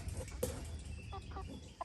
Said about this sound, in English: probably going to be some really dark chickens